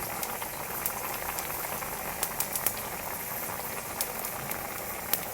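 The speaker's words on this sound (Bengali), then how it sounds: "ওলটা এবার একটু সেদ্ধ করে নেব।" Pieces of elephant foot yam boiling in a pot of water, a steady bubbling wash with scattered sharper pops throughout, fairly quiet and continuous with no talking.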